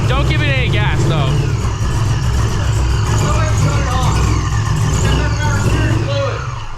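A C6 Corvette with a newly installed ECS supercharger kit idles in a garage, giving a loud, steady low rumble that runs under people talking close by.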